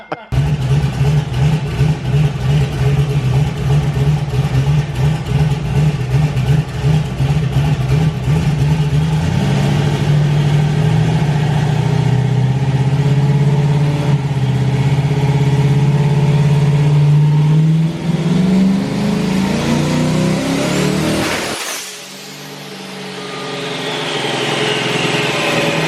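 Turbocharged Camaro roaring loud and steady on a dyno, engine note climbing through a long pull before cutting off abruptly, leaving a fading whine and low tail-off.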